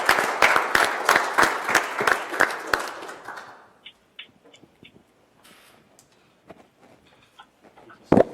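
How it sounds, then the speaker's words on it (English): A meeting audience applauds a retiring county employee at a Board of Supervisors meeting: loud dense clapping for about three seconds that fades into scattered claps, small knocks and light room noise. "Would you join me in a round of applause as well for this outstanding employee?"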